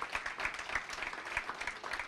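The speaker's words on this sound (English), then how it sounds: "Another round of applause for Sean McLean." Audience applause at an evening public-service event honoring women, a steady wash of many hands clapping with no voices, moderately loud throughout.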